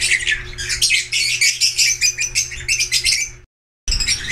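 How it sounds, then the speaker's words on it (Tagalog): Harsh squawks and chirps from a pet parblue parrot repeat in rapid bursts, loud and close, with a brief silent gap before the calling resumes. "ayan po yung siga kong ibon, yung parblue na yan"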